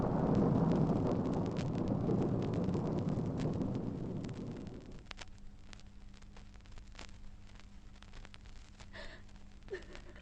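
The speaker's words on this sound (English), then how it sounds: "Oh, what's that? Thunder. Oh. There's going to be a bad storm." Low rumbling roll of thunder from an approaching storm in a radio drama, loud and broad for the first five seconds, then fading to a faint low hum with a few soft distant knocks.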